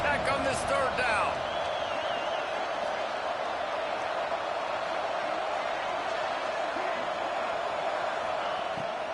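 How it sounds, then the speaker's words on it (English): Steady roar of a large college football stadium crowd in a video game during a Texas Tech third down, sustained and loud throughout, with a brief burst of higher cheering near the start. "Guns up, and so is the noise. The crowd electric trying to help Tech on this third down."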